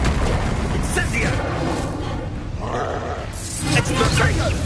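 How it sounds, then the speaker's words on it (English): A spell-driven explosion in the Hogwarts Legacy video game: a dense, continuous booming rumble under game effects and voice-like grunts, loud and close throughout. "Explosion!"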